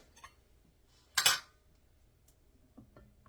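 A metal spoon is picked up from a plate in a quiet kitchen, giving one bright clinking rattle of cutlery against dish, with faint small knocks before and after.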